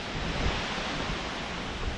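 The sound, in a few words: wind blowing outdoors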